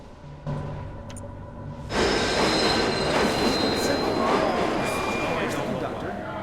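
Train wheels screech loudly and continuously during an emergency stop in Halo 3: ODST, starting faint, then surging into a sustained metallic squeal over rumbling rail noise for several seconds.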